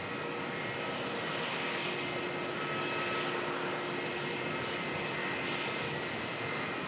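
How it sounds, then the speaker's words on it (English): Fiji Airways Airbus A350 jet on approach at Melbourne: a steady, loud, broadband engine roar with faint tonal whine holds constant throughout, swelling slightly midway, with no talk. "Fiji bringing in the A350."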